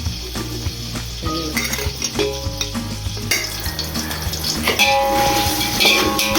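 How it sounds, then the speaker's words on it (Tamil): Six hundred grams of onions sauté in ghee with bay leaves, cinnamon and cloves for chicken biryani: a loud, close, continuous sizzle with repeated scraping stirs and metal pot clinks, no voices. "600 கிராம் வெங்காயம் சேர்த்து நல்லா வதக்கணும்."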